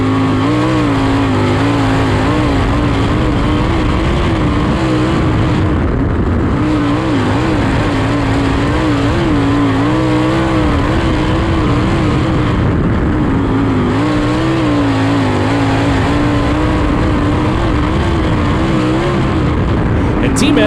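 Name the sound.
USAC sprint car racing at Lawrenceburg Speedway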